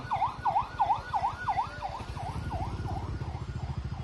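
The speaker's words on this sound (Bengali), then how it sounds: "অ্যাম্বুলেন্সও যাচ্ছে।" An ambulance siren wails past a railway crossing, repeating its rising-falling cycle about three times a second, loud and close, over the rumble of idling road traffic.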